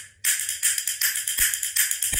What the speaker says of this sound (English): it's kind of coming back and flopping onto the fixed bone.